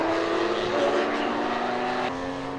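GT race cars, including a Ferrari Challenge car, roar past on the Craner Curves at Donington Park in poor conditions, a dense continuous engine drone with a pitch shift as cars pass, a commentator talking over it.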